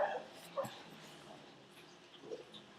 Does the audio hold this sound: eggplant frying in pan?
no